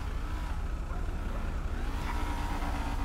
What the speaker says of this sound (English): Car does not sound healthy